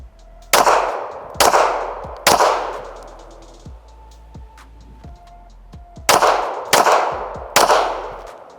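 Rapid pistol shots from a Palmetto State Armory Dagger Compact at a range come in two bursts of three sharp, loud cracks, with faint metallic pings and quiet gaps in between.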